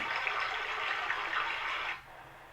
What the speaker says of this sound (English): Water running in a little creek.